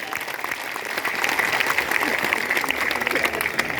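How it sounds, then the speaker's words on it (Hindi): An audience at a political satyagraha gathering in Rajasthan claps loudly and steadily for several seconds, a dense, continuous burst of applause close by. "जोरदार तालियां"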